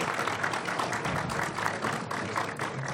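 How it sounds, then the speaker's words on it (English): An audience applauds a panel at a small business elevator pitch event, a steady, dense wash of clapping that holds at a fairly even level throughout. "can everybody please give our panel a round of applause for their time here today?"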